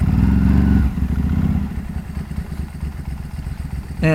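Ducati 749 motorcycle engine running while riding, a loud, steady, close drone with a rougher pulsing beat after the first second, ending in a brief higher tone.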